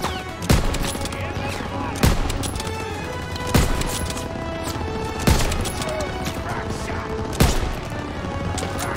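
Repeated bursts of gunfire in the PC game Call of Duty: WWII, with about five loud shots spaced a second or two apart over a steady background of battle noise and distant firing.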